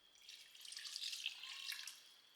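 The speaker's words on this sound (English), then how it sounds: "I'm going to top that off with water to submerge everything." Water pouring into a pot of Jamaican oxtail, a faint, steady splashing trickle lasting a couple of seconds, close and quiet with no other sounds.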